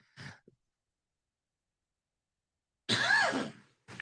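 A single short cough, followed after a pause by a louder throat-clearing burst and another brief sound at the end.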